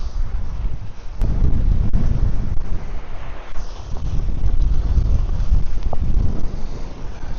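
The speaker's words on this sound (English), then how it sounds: "dang, this wind. About to blow me plumb off this point." Strong wind buffets the microphone at a fishing spot on a point, producing a loud, continuous low roar that swells and eases for several seconds, with no talk.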